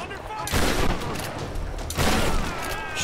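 Gunfire from a weapon loaded with flaming rounds in Tomb Raider (2013), two heavy bursts of shots about a second and a half apart, each with a crackling tail.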